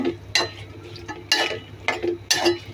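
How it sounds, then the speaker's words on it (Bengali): A utensil stirs okra around a cooking pan in three evenly spaced, close scraping strokes, each a short clattering rasp with quieter gaps between. "এই যে ভেন্ডিগুলো আমি দিয়ে দিলাম। এখন নেড়ে চেড়ে ঝোল দিয়ে দিব।"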